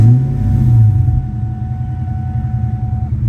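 A 2003 Ford Mustang SVT Cobra engine rumbles loudly at close range, a brief rev-up settling into a steady, throbbing idle with no voices.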